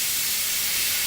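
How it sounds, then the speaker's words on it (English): An airbrush sprays red paint onto tabletop miniatures, a continuous close, loud airy hiss with no break. "I'm gonna airbrush the red on these guys too"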